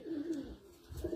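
Purebred Teddy flying pigeons coo softly up close, a low throaty burble heard twice in quick succession with no talking.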